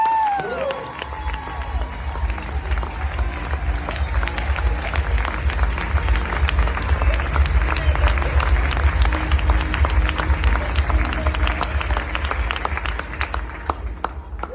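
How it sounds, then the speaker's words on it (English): A live event audience breaks into sustained applause and cheering, a dense wash of clapping from many hands that swells after a brief opening and holds steady at full volume for the rest of the stretch, with some crowd voices mixed in. "So if you can please give a big round of applause for Joy Sheremy."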